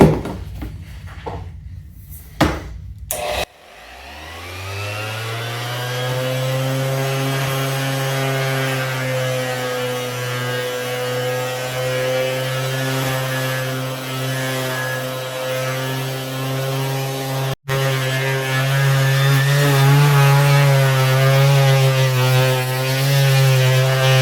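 A power buffer spins up and runs steadily on a stone countertop during a restoration, a loud sustained motor whine with strong even harmonics that continues unbroken after a few brief handling knocks at the start.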